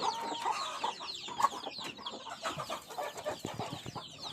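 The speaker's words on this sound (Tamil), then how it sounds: "இது நம்ம சித்தப்பா வீட்டு புறா, என் புறா கிடையாது" Domestic crested pigeons kept at a home call nearby with a busy mix of soft coos, chirps and fluttering sounds that continue steadily for several seconds.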